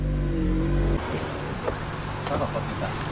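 Peugeot 307 WRC rally car stuck in third gear on a road section between stages, its engine a steady loud drone with low harmonics that shifts to a rougher, noisier tone after the first second.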